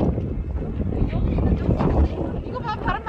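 Strong wind gusts across a harbour in Yeosu, buffeting the microphone with a steady low roar while people talk close by.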